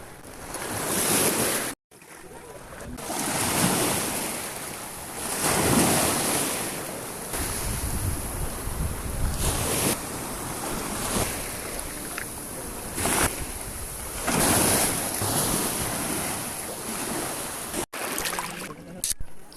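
Sea waves wash onto a rocky shore in repeated surges, each swelling up and falling away over a steady windy rush, recorded close with some wind buffeting on the microphone.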